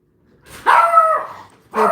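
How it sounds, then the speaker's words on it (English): A dog indoors letting out a couple of close, loud barks with a slight whiny edge, a short pause between them. "hear some barking, it's my dogs."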